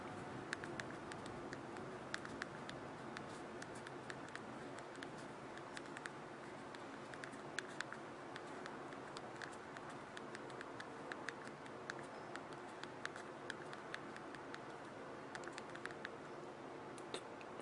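Quiet, rapid clicking of thumbs typing on the physical slide-out keyboard of a Motorola XPRT phone, a steady patter of tiny key taps with no talking.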